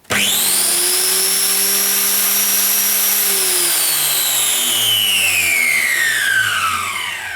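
A SHIJING 9033 automatic electric tile cutter runs loud and steady as its carriage moves and cuts tile, a continuous high whine with slowly falling pitch, no talking.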